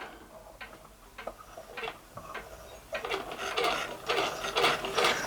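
A clockwork model steam engine runs with quick, irregular ticking and ratcheting clicks from its mechanism, starting sparse and faint, then growing busier and louder as it speeds up.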